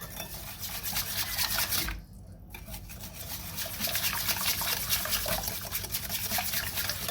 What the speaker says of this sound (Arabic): لازم كده تضربيه كويس او تضربيه بالخلاط زي ما انت عايزاه يعني